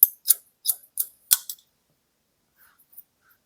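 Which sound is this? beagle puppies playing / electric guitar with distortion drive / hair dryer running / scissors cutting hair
scissors cutting hair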